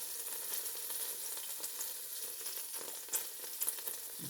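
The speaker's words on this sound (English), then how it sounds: "Simmering away, sizzling away." A mallard crown fries in a pan, hissing and crackling steadily with occasional louder pops, close and continuous with no talking.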